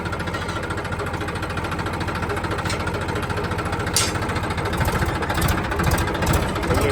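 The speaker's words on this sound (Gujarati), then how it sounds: "તો જઈશું અંદર ટ્રેક્ટર લઈને" A tractor engine chugs loudly and steadily with a rapid knocking rhythm while driving into a farm plot, close and continuous, with a few brief metallic clanks toward the end.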